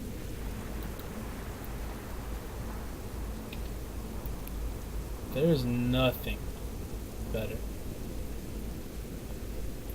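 Soft, even rainfall in the World of Warcraft game world hisses as a constant background while someone talks over it.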